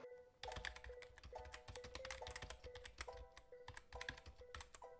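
Someone types an address on a computer keyboard, quick bursts of light key taps broken by short pauses, close and clear in a quiet room.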